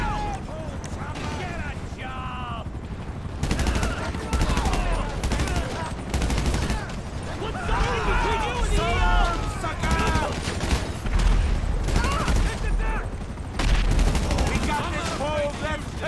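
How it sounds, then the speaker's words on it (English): Bursts of gunfire in GTA Online, loud, close rapid volleys repeating through the scene, with game music and effects and people talking over the shooting. "Oh God, who's shooting me?"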